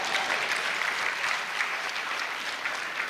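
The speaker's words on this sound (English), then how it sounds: "Please applaud these other faculties." Steady applause from a seated audience at a medical college induction ceremony, a full, continuous patter of many hands clapping throughout with no pauses.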